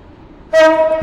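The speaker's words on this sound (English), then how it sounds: "The train now approaching platform 2 terminates here." A loud, sustained train horn blast sounds abruptly as a train pulls into a station in a Roblox railway game on the Port Benton to Stepford Victoria route.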